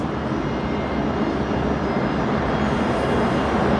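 Rex regional turboprop arriving at night at Brisbane Airport after a short hop from Toowoomba, with a loud, steady, close engine roar throughout.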